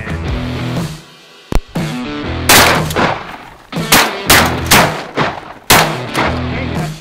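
Shotgun blasts during a winter duck hunt in Idaho: several loud, sharp reports, some in quick pairs, crack out over wind noise across the seven seconds, with no talking.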